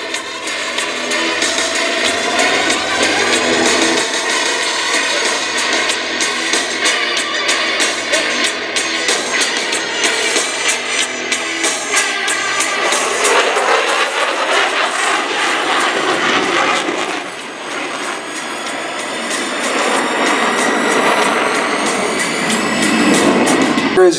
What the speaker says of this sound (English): Is now slowing the F-16 to prepare for a slow-speed, high-alpha pass